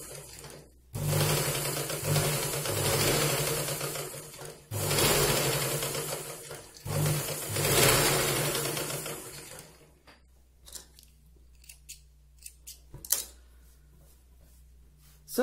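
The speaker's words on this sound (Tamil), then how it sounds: "இப்படி ஸ்லோவா ஸ்டிச் பண்ணிட்டு வாங்க." A sewing machine stitches cloth slowly in a tailoring class, running in several close, steady bursts of mechanical whirring with brief pauses between them. It is followed by quieter handling clicks.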